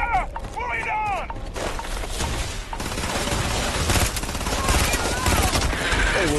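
Sustained burst of futuristic gunfire in the sci-fi shooter Starfield, loud and dense for several seconds, with shouted voices over the start of the volley.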